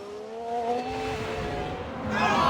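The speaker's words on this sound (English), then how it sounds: "this is where they spun out" Alfa Romeo Formula 1 car spinning out in F1 Manager 22, a steady high engine whine with tyre scrub and skidding noise that swells louder near the end.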